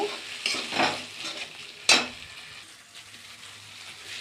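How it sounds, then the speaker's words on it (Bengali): Spices and whisked yogurt for a cauliflower and potato curry stirred and sautéing in a pan, with a soft sizzle, a couple of scraping stirs and one sharp utensil knock against the pan. "আমি একটু দই দিয়ে দিচ্ছি দইটা আমি ভালো করে ফেটে নিয়েছি আবারও কষিয়ে নেব"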